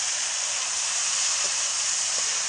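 Onions fry in hot oil with turmeric and bay leaf, with mutton cooking nearby, giving a loud, steady, close sizzling hiss that runs unbroken throughout with no speech.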